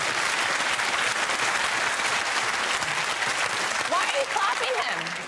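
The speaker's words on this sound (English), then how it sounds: "Why are you clapping" A studio audience at a comedy panel show claps steadily and densely, loud and close throughout, with a voice briefly audible near the end.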